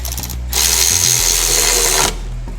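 A power tool spins up on the bolts of a 2018 Honda Goldwing front brake, giving one loud, close, steady whirring burst of about one and a half seconds, then winding down.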